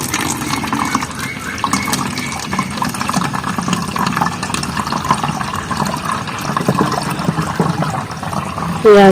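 Homemade mango frooti drink poured into new bottles, a steady liquid trickle and splash running close and continuous throughout with faint background noise.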